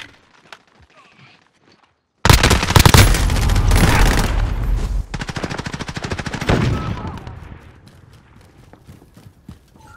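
Loud, dense bursts of automatic gunfire in the Call of Duty: Modern Warfare Shoot House map break out suddenly after a near-silent lead-in, rattling rapidly for several seconds, then thinning into scattered shots with speech mixed in.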